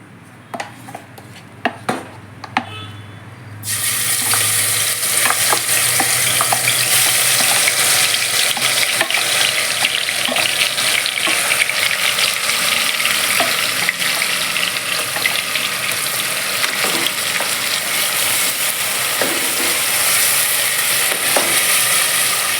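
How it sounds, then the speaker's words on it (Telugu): Coarse masala paste dropped into hot oil for a cowpea biryani: after a few quiet knocks, a sudden loud, dense sizzle bursts in and continues steadily and close, with no talking. "ఆయిల్ వేడెక్కింది ఈ మసాలా అనేది వేసేద్దాం"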